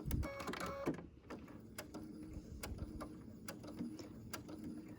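A sewing machine running close by for a short burst of reinforcement stitches on a fabric gift bag, then a series of sharp mechanical clicks and taps.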